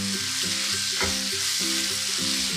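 Paneer butter masala gravy sizzles and fries in a pan as it is stirred over low heat, a steady close hiss with soft scraping running throughout, no voices.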